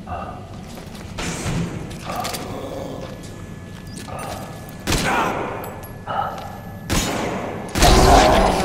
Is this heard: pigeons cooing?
no